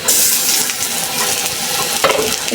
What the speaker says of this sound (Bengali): লাল করে ভাজলাম